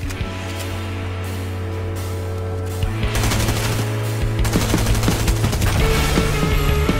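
SMG gunfire in the video game Fortnite: rapid bursts of automatic shots, sparse at first and then dense and continuous, loud and close with no talk.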